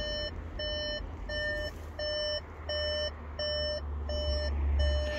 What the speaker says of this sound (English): that beeping's getting on me